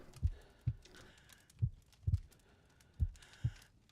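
A heartbeat in a survival video game, low thumping pulses recurring in pairs and singles, fairly quiet and steady with no talking over it.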